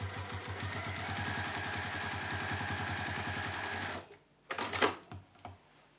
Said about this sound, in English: I sewed along that bottom seam first